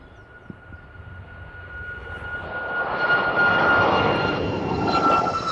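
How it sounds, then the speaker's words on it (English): A Ryanair jet airliner takes off at East Midlands airport, its engine roar building from a faint distant whine into a broad, loud rumble that holds near its peak toward the end, heard without voices. "The Ryanair rolling out now though."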